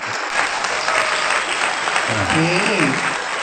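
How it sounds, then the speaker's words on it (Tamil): Audience applause at a Tamil festival stage event in Mandaikadu, a sustained wash of many hands clapping at moderate loudness, with a voice briefly sounding over it near the end. "சந்தோஷமாக எல்லாரும் உற்சாகமாக ஒரு கைத்தட்டுங்களை பார்ப்போம்"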